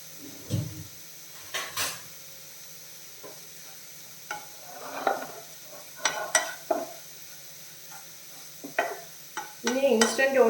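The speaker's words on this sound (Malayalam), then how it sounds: "അതിൽ നമ്മുടെ ഓട്സ് ഇട്ട് ഒന്ന് വറുത്തെടുക്കണം" Intermittent scraping and tapping of a spoon stirring oats dry-roasting in a pan, with a soft background hiss and occasional clinks.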